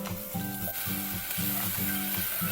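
Onions sizzle in melted butter in a pan, a steady close frying hiss overlaid with a repeating rhythmic scraping as they are stirred, with no talking.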